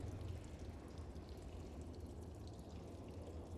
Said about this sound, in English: The faint trickling and dripping of water.